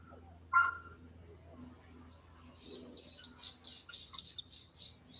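A bird chirping outside, with a brief sharp sound early on and then a run of quick, repeated high chirps that grow more regular toward the end.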